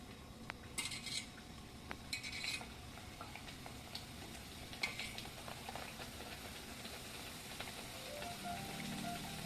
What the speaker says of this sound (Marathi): ते तूप गरम झाले आता टाकूया आपण एक एक